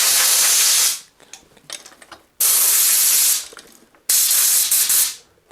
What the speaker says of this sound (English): a little compressed air never hurts